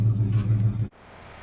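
Classic car engine, a 1972 Nova or 1969 model primed with gas poured down it, running as a loud low rumble for under a second and then cutting off abruptly into quiet background noise.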